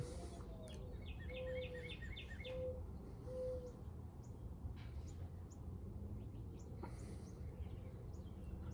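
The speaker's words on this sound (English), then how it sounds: "Cardinals, mourning doves." Cardinals and mourning doves sing on a small-town evening. There are repeated chirping phrases and a few soft tonal coos, faint and distant, over a low ambient rumble.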